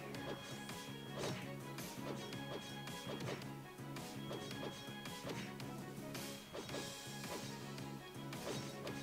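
A sword skill attack called Axel Blade lands in the online RPG Toram Online, with a run of sharp slashing impacts over constant loud game music and effects.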